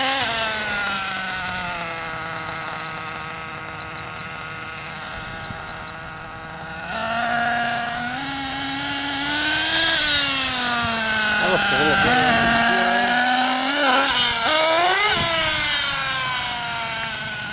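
Kyosho MP9 nitro RC buggy on asphalt during speed runs after tuning: a high, buzzing two-stroke engine whine that rises and falls in pitch as it accelerates and passes, steady and fairly loud throughout.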